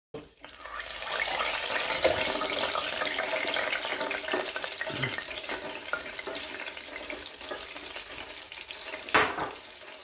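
Plantain dropped into hot oil, bursting into a loud, steady sizzle right away and crackling on continuously, with occasional utensil clinks close by.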